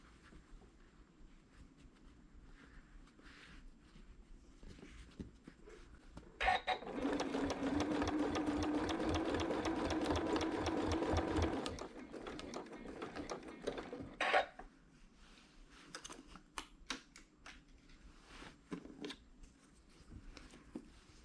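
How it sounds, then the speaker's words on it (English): Sewing machine stitching hexagon quilt sashes, a quiet start, then a loud, steady, close mechanical run of about five seconds, a short burst after a pause, and soft handling noises before and after. "Then I turn my corner and continue sewing this way."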